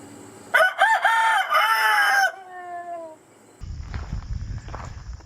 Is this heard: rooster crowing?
yes